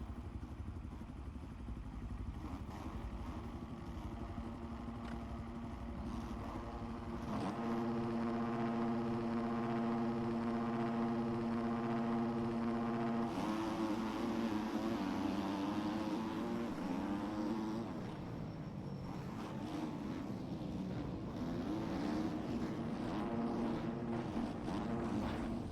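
Several motocross bikes in MX Bikes roar off the start gate, engines droning steadily and then climbing sharply in pitch as they accelerate, a loud, continuous buzzing whine that stays busy throughout with no voices.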